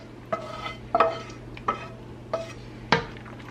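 Tuna pasta being stirred in a pot with a utensil: five distinct scraping clinks at steady, spaced intervals, close and clear with no talking.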